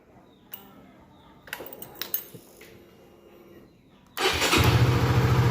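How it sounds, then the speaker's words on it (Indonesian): A Honda Sonic motorcycle with a K56 engine is started: a few clicks and handling noises, then the engine catches and settles into a loud, close, steady idle. "saat kita hidupin motor"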